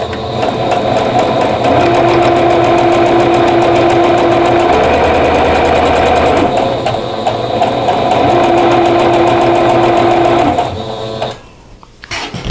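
A sewing machine threaded with all-purpose thread stitches charm pack quilt fabric pieces at a scant quarter-inch seam. It runs as a loud, steady, rapid mechanical whir for about eleven seconds and then stops abruptly.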